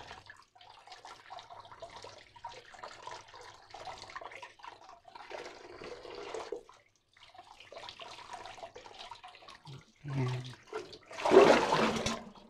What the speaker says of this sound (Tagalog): ugasan natin po maigi ang balanghoy